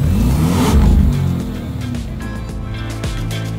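A new Porsche Cayenne S or Cayenne Turbo engine revs loudly at a premiere event in Singapore, a deep roar that swells for about a second and a half, then settles into a steadier, quieter rumble.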